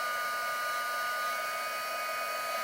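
A heat gun blows a steady, loud, even whoosh with a faint tonal whine while warming embossing powder into a shiny silver caption on a card, with no talking.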